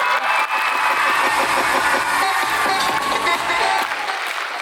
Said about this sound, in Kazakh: Шапалақ бола ма, болмай ма, өздеріңіз білесіздер.